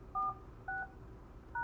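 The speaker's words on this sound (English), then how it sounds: "Please enter your PIN followed by the pound sign." Three short DTMF keypad tones ring out in separate, evenly spaced beeps as a voicemail PIN is keyed in on a teacher's desk telephone, clean and fairly quiet with nothing else under them.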